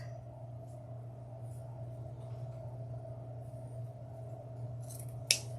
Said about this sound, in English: and then we trim that off